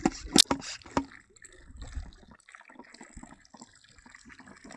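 Water sloshes and gurgles as a Decathlon Quechua camp shower bag is pumped, with a few sharp handling knocks at the start and quieter, intermittent liquid movement after.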